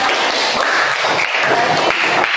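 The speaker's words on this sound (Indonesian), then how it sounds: "terima kasih tepuk tangan untuk Zira" A classroom of schoolchildren applauds a classmate, a dense, steady wash of many hands clapping together, close and loud, lasting the whole moment without a break.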